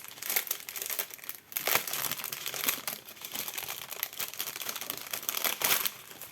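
A plastic package of rhinestones is opened by hand, giving close, quiet crinkling and rustling bursts with a few brief pauses.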